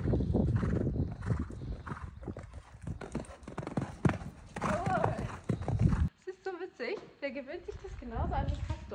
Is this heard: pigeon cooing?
no